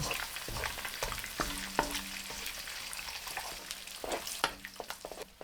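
Eggs hit hot oil with garlic in a pan for Thai crab fried rice, frying with a crackling sizzle broken by sharp scrapes and clicks of stirring.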